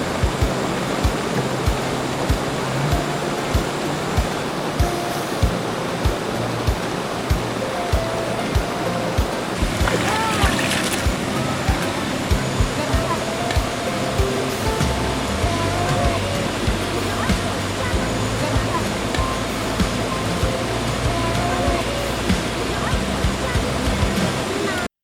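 A waterfall at Taytay gives a constant, broad rushing roar that fills the whole scene without a break, with people talking faintly in the background.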